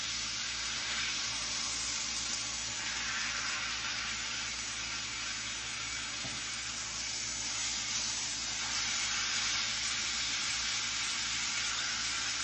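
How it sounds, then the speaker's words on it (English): Beef pot roast sears in a hot pan with a steady, loud, broadband sizzle and hiss that holds without a break from start to finish, close up and with no voices over it. "Alright, we got that other side searing."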